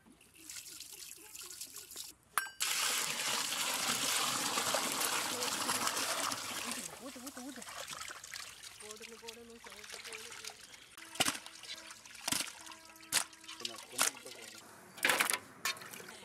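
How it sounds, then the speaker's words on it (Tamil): Lizard fish being washed by hand in water with salt in a village kitchen, a long steady trickling and splashing that gives way to scattered drips and sloshes, with a voice speaking in the background. "கூடவே உப்பு சேர்த்து மீனை நல்லா அலசி எடுத்துக்கலாம்."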